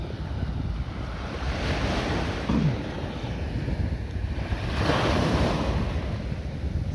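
Ocean waves pound against rocks on the beach at Sungai Rengit, a continuous roar of surf and wind with two louder crashing swells building and breaking close by. No one speaks.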